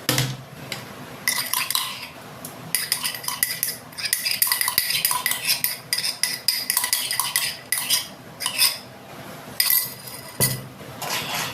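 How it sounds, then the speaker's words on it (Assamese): A spoon stirs a pot of pork cooking with crushed chili, clinking and scraping against the metal again and again in an uneven rhythm, close by and with no talk. "এতিয়া মই লৰাই ল'ম, লৰাই"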